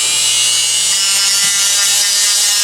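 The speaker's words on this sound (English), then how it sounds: "I've just got a little sanding wheel" A Dremel rotary tool with a small sanding wheel grinds against the dome of a pinball pop bumper bulb, a loud, steady high-pitched whir and abrasion running continuously without pause.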